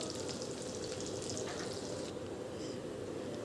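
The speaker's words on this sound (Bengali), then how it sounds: "ভালো করে একদম ব্রাউন কালার চলে আসবে পেঁয়াজগুলো। ততক্ষণ পর্যন্ত ভাজতে হবে" Onions and chopped tomato fry in a pan for a Bengali mutton and potato curry, giving a faint, even, continuous hiss and sizzle with no distinct stirs and no voices.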